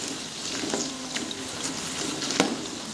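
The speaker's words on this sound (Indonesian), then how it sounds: "Goreng dulu jengkol sebelum" Jengkol beans fry in a pan for sambal jengkol, giving a soft, continuous sizzle with faint scattered pops, moderately quiet and with no voices.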